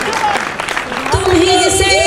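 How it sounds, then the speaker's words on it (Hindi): Audience applause at an All India Mushaira poetry gathering, a burst of clapping that quickly gives way to a voice speaking or reciting over the fading applause. "शेर पर जोरदार तालियां दोस्तों"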